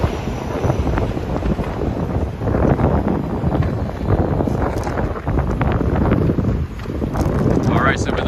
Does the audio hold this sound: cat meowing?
no